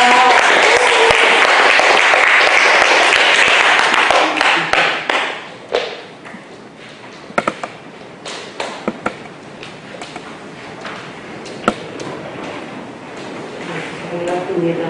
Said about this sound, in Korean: 강사님을 큰 박수로 모시겠습니다